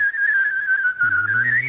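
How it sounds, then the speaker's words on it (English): A single pucker-style whistle holds a steady high tone with slight wavering, and a low hummed tone joins underneath partway through, sounding together up close. "I'm also humming when I whistle"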